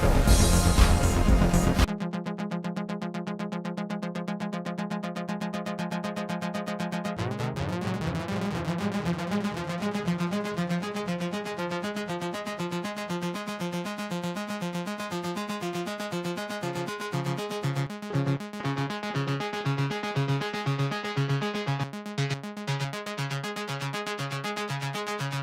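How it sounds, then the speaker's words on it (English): A synth arpeggio pulses in steady repeating notes, each trailed by echoing repeats from an Echo Boy tape delay plugin that smear into a washy, colorful texture, playing alone without voices. "Echo Boy is a very good sounding delay"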